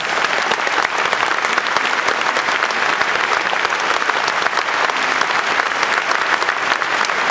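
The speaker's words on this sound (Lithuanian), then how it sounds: "Paplokime Šiaulių miesto ambasadoriams." An arena audience at the Šiauliai city awards ceremony applauds the city ambassadors, a loud, dense and unbroken wash of many hands clapping that holds steady throughout.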